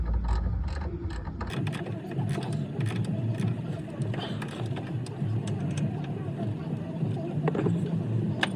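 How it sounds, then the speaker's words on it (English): A ratchet tightens the bottom bolt on the rear brake of a 2007 Hyundai Elantra, giving quick, repeated metallic clicks close by, with a person talking over the work. "Now we're doing that bottom bolt here, trying to tighten it up."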